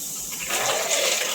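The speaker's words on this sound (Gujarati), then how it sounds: "ઈ હવે નળ તો ચાલુ કર." Water runs steadily from a bathroom tap, starting partway through as a broad, hissing rush that stays loud and close until the end.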